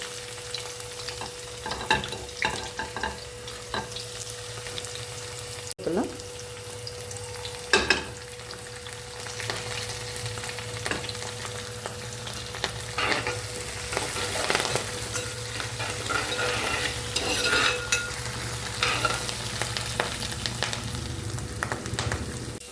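Ginger and chopped shallots frying in oil for fish head curry: a continuous close sizzle broken by occasional stirring scrapes.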